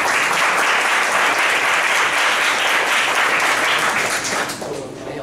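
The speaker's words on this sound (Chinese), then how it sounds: "掌声欢迎彭老师。" An audience at a seminar welcomes a lecturer with loud, dense applause that runs steadily before thinning out and fading near the end.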